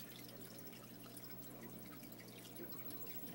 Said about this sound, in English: With all the bubbles.